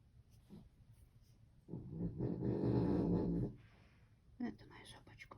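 A dog snores indoors in one long rasping drawn-out breath lasting a couple of seconds, with quieter breathing and small rustles before and after.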